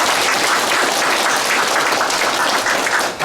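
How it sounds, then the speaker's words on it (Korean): Warm applause from residents at a town hall meeting fills the room, a dense, even wash of many hands clapping that holds steady before fading slightly at the end. "최저구 군수님과 주진아 도의원님, 김영진 군의원님께 우리 모두 감사의 마음을 담아 큰 박수를 부탁드립니다"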